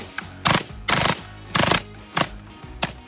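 A suppressed Kriss Vector with a three-position forced reset trigger fires several short, rapid bursts close by, each a quick string of muffled shots separated by brief pauses.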